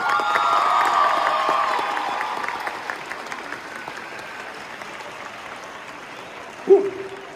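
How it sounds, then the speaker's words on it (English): Loud audience applause with cheering and whoops fills a high school event, strongest at first and slowly thinning out, ending with a single sharp knock or thump near the end. "one more big round of applause for Shalimar"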